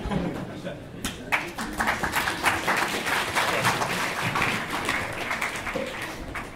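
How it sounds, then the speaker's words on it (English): A crowd claps and cheers in a sustained burst of applause that holds steady for several seconds. "You can applaud normally now"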